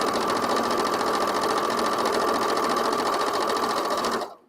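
A Janome sewing machine stitches in the ditch on a quilt, a fast even mechanical whir with a rapid stitch rhythm that runs steadily before cutting off abruptly at the end.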